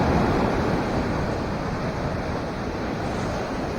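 Ocean waves driven by Typhoon Enteng crash continuously against the shore in a loud, dense roar, with wind buffeting the microphone throughout.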